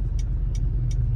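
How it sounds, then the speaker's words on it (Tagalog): Steady low rumble of street traffic with cars idling and passing, plus three brief bright ticks spaced evenly, with no one speaking. "Ang traffic, oh."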